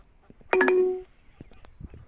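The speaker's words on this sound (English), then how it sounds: "Look at these lovely geese here," Geese calling outdoors at close range, one loud honking call of about half a second, followed by faint scattered sounds.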